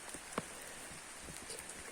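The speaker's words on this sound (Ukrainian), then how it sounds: "Тобто наскільки сильний дощ" Light rain falls over a country garden, a faint, even patter with a few sharper drops landing close by.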